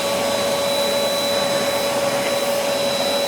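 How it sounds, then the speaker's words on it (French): A vacuum cleaner cleans out a gas boiler during servicing, giving a loud, steady whine with a fixed tone and constant broadband rushing air that holds for the whole stretch without pause. "je donne un petit coup d'aspirateur pour nettoyer tout ça"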